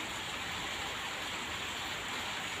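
Steady rain falls outside on a rainy day, a continuous even hiss of drops that stays broad and unbroken throughout, with no voices over it.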